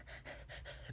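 A person's voice imitating a dog's panting, several quick rhythmic breaths, close and quiet.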